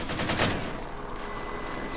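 Rapid bursts of gunfire in a Halo 4 firefight, a quick string of shots at the start trailing off into steady battle noise, with another sharp burst right at the end.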